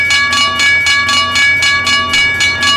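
Train passing a level crossing in the Trainz simulator, loud steady rhythmic clickety-clack of wheels over rail joints, each beat evenly spaced, with a sustained tonal hum beneath.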